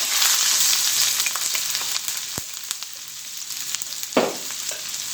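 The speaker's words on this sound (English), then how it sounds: "I have grated about a finger worth of ginger, and we're going to add that to our pan of hot oil." About a finger's worth of freshly grated ginger sizzles in a pan of hot oil for a vegan Jamaican oxtail stew. The frying makes a steady bright crackle, with a louder burst of sizzling near the end when it is stirred.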